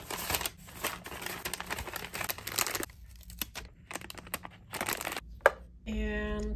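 Plastic packaging crinkles and rustles while an order of enamel pins is packed by hand, with scattered crisp crackles and handling noises up close and a brief sharper snap near the end.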